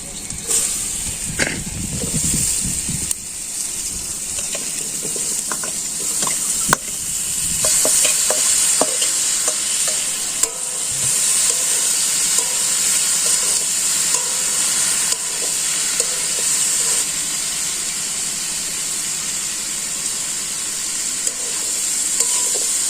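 Large-cut onions and green chilies fry and get stirred in a pan during a village cooking session, with a steady close sizzle and scraping stir sounds throughout and brief clatters near the start.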